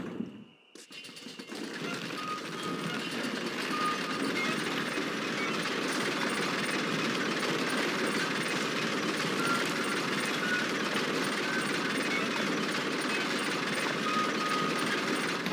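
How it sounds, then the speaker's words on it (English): Lift gears engaging in the Red Dead Redemption video game, a brief clunk followed by a steady, loud mechanical grinding and rattling rumble that carries on without a break, with no talk. "Load up and I'll engage the gears."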